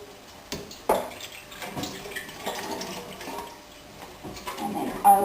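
Water drains and trickles from soaked buckwheat sitting in a kitchen sink, a steady close splashing with small drips and light clatters and no talking.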